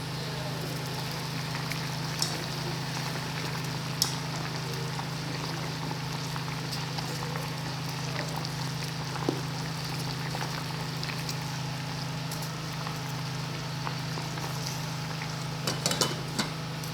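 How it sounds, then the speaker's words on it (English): Onion tea boiling in a pot over a fire gives a steady, even bubbling hiss with a constant low hum underneath, broken now and then by faint clicks and taps. "while we wait for the first ingredient to boil on the fire"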